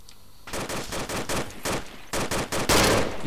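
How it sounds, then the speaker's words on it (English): Sustained automatic gunfire fired through a wall in a combat simulation, loud bursts of rapid shots in close succession filling the whole stretch with little pause. "He's firing through the wall, that's how he's got him."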